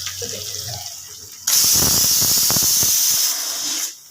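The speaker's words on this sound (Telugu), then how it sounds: "ఇలా డీప్ ఫ్రై చేసుకోవాలి ఇవన్నీ" Ivy gourd pieces dropped into hot oil for deep frying, a sudden loud steady sizzling hiss that swells after a quieter start and fades near the end, close up with no talking.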